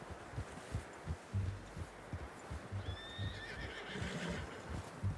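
A horse in Red Dead Redemption 2 whinnies with a rising, wavering neigh midway through, over a steady run of clip-clopping hooves on a low, rumbling bed of ambient sound.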